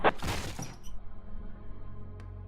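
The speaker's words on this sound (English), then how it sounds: "I'm gonna ram through the door." A door being rammed open in a tactical police shooter video game: a sharp, loud crashing burst with splintering at the start, quickly fading into a low rumbling tail and a faint clink near the end.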